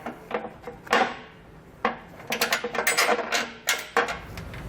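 A Roadmaster direct-connect base plate bracket is dropped into place behind a 2020 vehicle's bumper, giving a run of sharp metallic clunks and rattling knocks, some isolated and some in quick clusters, close by with no talking.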